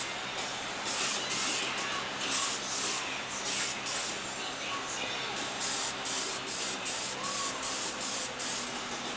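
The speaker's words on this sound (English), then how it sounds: "then I'll shoot a quick shot of clear over it just to seal it off" A spray gun lays clear coat over fresh red paint in a series of short, even hissing bursts, each lasting about half a second with brief gaps, close and steady against a quiet room.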